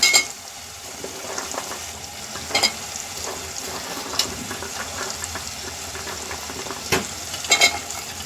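Masala with cauliflower, peas, carrots and chili sizzles loudly and steadily in a pan, with occasional scrapes and taps of stirring over a dense, close frying hiss.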